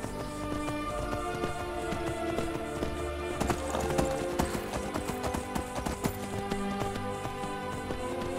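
Horse hooves clip-clop steadily in the Skyrim video game, a continuous rhythmic trotting over game music and ambience, fairly loud and close throughout with no clear speech.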